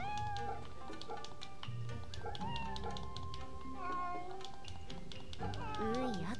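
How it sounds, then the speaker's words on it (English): A cat meows in the video game Fate/Samurai Remnant, rising pitched cries heard under game music and someone talking. "Oh, that's a cat."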